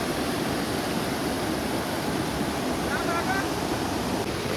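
Water rushes in a steady, loud flood along a village riverside fishing spot, a continuous broad wash with no pauses.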